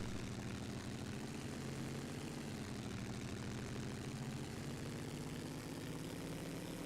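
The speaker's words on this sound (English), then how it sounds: "Definitely going to be putting the engine under some strain, going at these high revs with little to no airflow." Racing car engine straining at high revs with little airflow in a 1925 Grand Prix d'Europe video game, a constant dense drone that holds steady throughout with no break.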